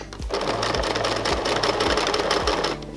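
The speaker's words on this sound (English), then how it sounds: "I'm going to pivot, flip the binding up, and continue sewing" A sewing machine stitches quilt-as-you-go binding, a close, continuous whirring hum with a fast rhythmic needle pulse throughout the short stretch.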